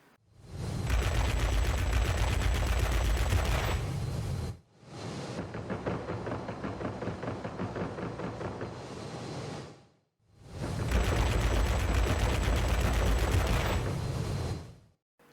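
World of Warplanes aircraft cannons in 20mm and 30mm sizes fire in three sustained bursts, each a dense rapid rattle lasting about four to five seconds, separated by short silent gaps, moderately loud.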